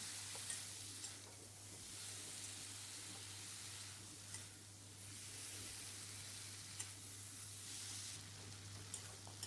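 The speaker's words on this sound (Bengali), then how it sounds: "হাই আঁচ যেহেতু দেওয়া আছে, তাই আপনারা এভাবে বারবার নেড়ে নেবেন, না হলে নিচে লেগে যাবে।" Okra bhindi masala being stirred in a pan over high heat, a steady sizzle with repeated scraping strokes of the spoon recurring throughout, close and continuous with no talking.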